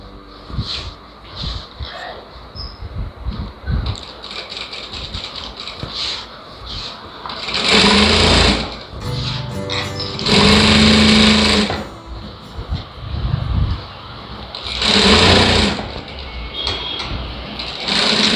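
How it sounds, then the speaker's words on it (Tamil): A sewing machine stitches the lining of a women's blouse in bursts, loud whirring runs of a few seconds each separated by quieter handling and pauses, close up. "இப்போ இந்த பக்கம் தைச்சிக்கலாம்"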